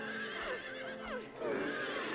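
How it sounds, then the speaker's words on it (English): Horses in the Silent Hill 3 video game neigh and whinny in quick succession, with several loud, wavering calls overlapping against a steady background hum. "God, there are a lot of horses"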